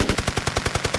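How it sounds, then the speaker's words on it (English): A 15-round burst from a weapon in the video game Battlefield 1: rapid, evenly spaced gunshots in one tight, punchy volley, loud and alone. "And upcoming is the 15 round burst"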